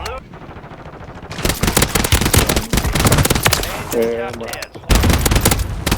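Assault rifle fire in a video game on Rebirth Island crackles in rapid, loud automatic bursts, nearly continuous with short breaks, while a player's voice briefly cuts in.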